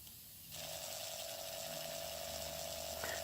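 Power drill with an extractor bit boring into a broken bolt on a Stiga Park 2000 mower: a steady, loud whine starts abruptly and holds continuously without pause.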